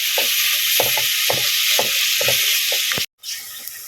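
Onions sautéing in a pan for a beef bones dish, a steady broadband sizzle with repeated spoon stirs and scrapes, loud and close with no talk, briefly cut off near the end before the sizzle resumes.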